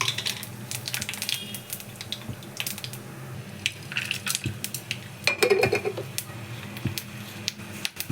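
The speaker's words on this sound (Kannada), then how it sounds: "ಸೊ ಇವಾಗ ನಾನು ಶೇಂಗಾ ಕಾಳನ್ನ ಹಾಕ್ಕೊತಾ ಇದ್ದೀನಿ." Peanuts tumble into a cooking pan and are stirred for a small breakfast dish, giving scattered clicks, rattles and scraping clatter. The sounds are moderately close and uneven, with no talking.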